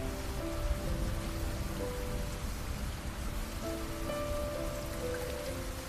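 Rain sound effect in a children's story reading: a steady, dense patter of rainfall runs throughout at moderate level, with faint sustained musical tones underneath and no speech.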